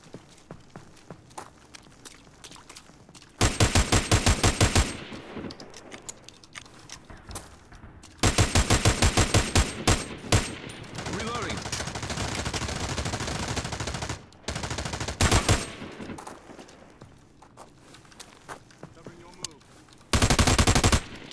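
Machine gun fire in the PUBG video game rips out in several loud, rapid automatic bursts of a few seconds each, separated by quieter stretches of footsteps and faint ambient game sound.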